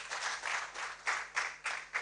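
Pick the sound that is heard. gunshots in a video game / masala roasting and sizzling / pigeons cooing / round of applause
round of applause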